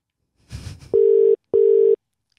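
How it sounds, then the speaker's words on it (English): Telephone ringback tone on an outgoing call: two loud, steady electronic tone bursts in a row, each about half a second long, following a brief soft rustle. "It's ringing."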